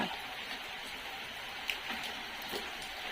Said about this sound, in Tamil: எவ்வளவு எவ்வளோ நேரம் மழை பெஞ்சிட்டு இருக்கு விடாம